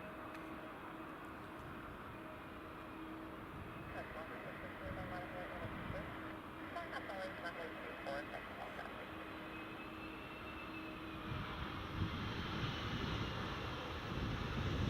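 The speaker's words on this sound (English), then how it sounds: "The Dreamliner is just taxiing out now, the Air Canada Dreamliner." An Air Canada Boeing Dreamliner taxiing at Edinburgh Airport, a steady distant jet engine whine and rumble that swells slightly toward the end, with a voice talking over it.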